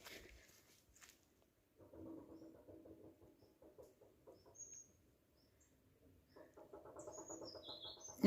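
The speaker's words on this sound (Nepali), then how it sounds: "चराहरू हल्का कराउँदैछ है।" Birds call softly around a hillside forest trail in Siddhithumka, Ilam, with scattered faint chirps and a couple of brief bursts of rapid twittering over quiet surroundings.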